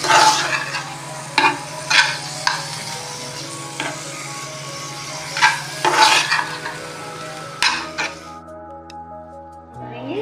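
Chicken with raw ginger sizzles and fries in a pan while a utensil stirs it in repeated scraping strokes, a steady close frying hiss under the clacks, with brief talk near the end.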